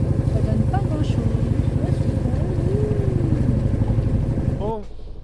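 Big engine of a sailboat motoring back toward Fréjus, a loud close rhythmic drone that fades out near the end, with a voice briefly talking over it.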